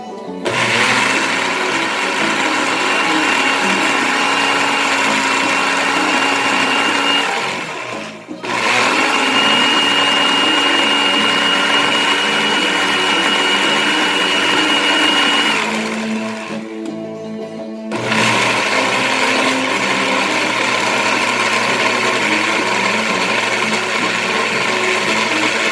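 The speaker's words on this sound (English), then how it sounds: "So let's see what the blender says." A kitchen blender purees onions, bell pepper and chayote with a loud, continuous motor whir that cuts out briefly twice and then resumes at full power.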